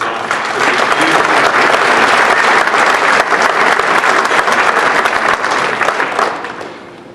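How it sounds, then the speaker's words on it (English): Loud, dense applause from an awards-event audience, sustained clapping for several seconds before tapering off toward the end. "So I'd like to give a round of applause to LTU for pulling this off."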